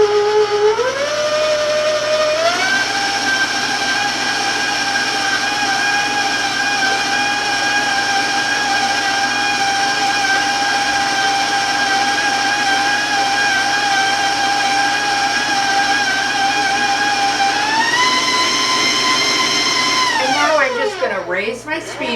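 An electric hand mixer whirs steadily through white box cake mix batter, its motor pitch stepping up twice as the speed is raised past medium, loud and close, then winding down at the end.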